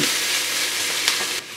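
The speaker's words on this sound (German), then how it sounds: "Und immer weiter leicht rösten, dass sich da schön viele Röststoffe entwickeln." Rabbit pieces roast in a pan, giving a steady close sizzle with light stirring clicks near the end.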